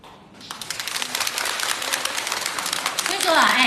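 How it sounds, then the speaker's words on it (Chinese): Audience applauding at a Chinese opera performance, a dense crowd clapping that swells louder toward the end, with a voice speaking over it. "所以说大家在拍手啊"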